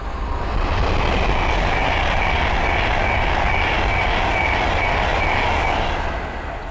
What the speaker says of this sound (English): our final train of the day is the Adventure West Coast Class 390 Pendolino